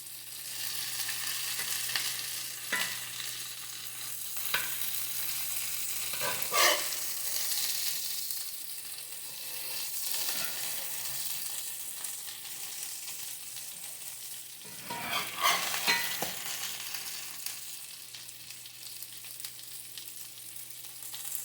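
Butter sizzles and fries in hot grease in a pan for a Salisbury steak, a steady close crackle with occasional louder pops and stirring scrapes.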